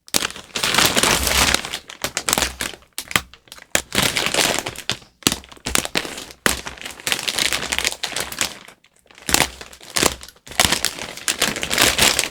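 A plastic mail bag crinkles and crackles loudly and close by as it is torn open and handled, in bursts with short pauses between.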